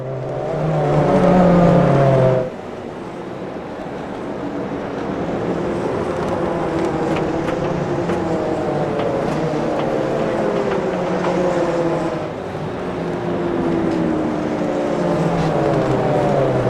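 BMW race car engine in a racing video game at Long Beach, a loud sustained engine whine shifting pitch through gear changes, with a brief drop after about two seconds and steady revving thereafter, no talk.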